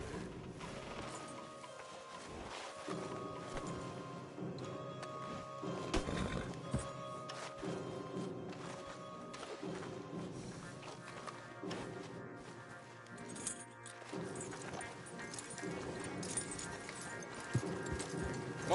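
Horse hooves clip-clopping faintly in Red Dead Redemption 2 while horses are tethered for a ride, soft irregular steps mixed with creaking tack and mechanical rattles, quiet and a little distant.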